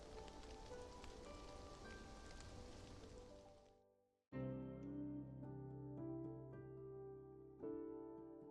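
Rain falls in the video game Love and Deepspace as a dense, steady patter for about four seconds. It then cuts off abruptly and soft tonal music follows.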